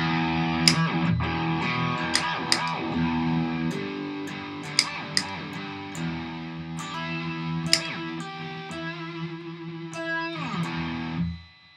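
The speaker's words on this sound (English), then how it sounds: "I mostly use it for the S-bend effect, which is much like the whammy pedal" A distorted electric guitar plays with pitch swooping up and down through an effect pedal, sustained and buzzing with occasional sharp pick attacks.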